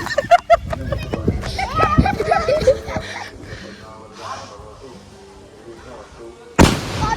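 A large firecracker bomb goes off at a Satyanarayan puja gathering in Konkan, with loud sharp bangs and crackling bursts amid excited shouting voices, then a final heavy blast near the end.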